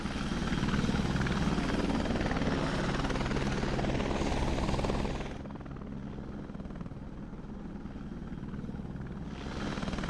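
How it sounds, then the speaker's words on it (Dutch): A helicopter carrying groups of football fans flies over Leeuwarden, its loud rotor and engine roar steady and close, then dropping slightly in level as it moves on, with no talk. "In verskate groepjes stappen ze in de heli en gaan ze oer Ljouwert hinnen"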